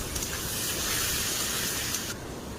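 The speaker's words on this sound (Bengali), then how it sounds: "এবারে টমেটো দিয়ে দেবো।" Tomatoes hit hot oil with fried ginger and garlic for a mutton kosha curry, giving a loud, close, steady hissing sizzle that eases slightly near the end, with no talking.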